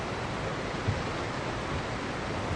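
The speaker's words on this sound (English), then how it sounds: "the waterfall's so loud" A loud waterfall in Genshin Impact's Fontaine region roars as a steady, broadband rushing wash of water, continuous and unchanging with no voices.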